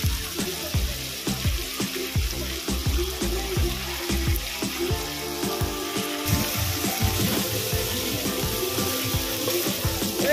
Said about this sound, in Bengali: এটা ভালো করে ভেজে নেব।